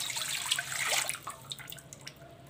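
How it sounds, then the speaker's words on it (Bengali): Liquid milk, about a kilogram, pours steadily from a container while preparing a quick sweet dessert at home, a bright continuous splashing stream that trickles off toward the end, with no talking. "এই যে দেখুন, আমি দুধ ঢেলে দিচ্ছি।"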